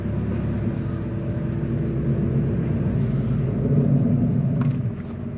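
A flood-damaged Vauxhall Corsa SRi moves slowly along a road, giving a steady low engine and road rumble that rises a little near the end, with faint brief ticks and no talking.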